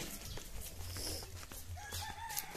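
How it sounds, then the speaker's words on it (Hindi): A chicken clucks and calls in short bursts outdoors, fairly faint, over soft ambient noise and scattered clicks. "क्या मुर्गी है रे"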